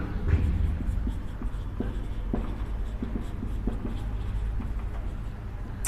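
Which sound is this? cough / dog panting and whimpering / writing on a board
writing on a board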